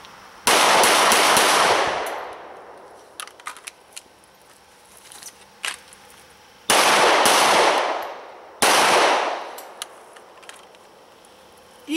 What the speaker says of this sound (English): I'm going to try taking some other shots, some combat hits kind of in our center target here